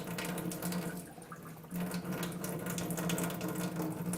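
An electric water machine dispenses a steady stream of water with a low pump hum underneath. The flow briefly softens, then resumes, close and fairly quiet.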